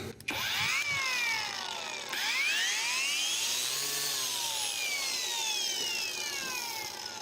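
A PATUOPRO angle grinder with a disc fitted runs at full speed, a loud steady high whine with sweeping pitch arcs as it spins up, then holds and eases off, alone with no talk.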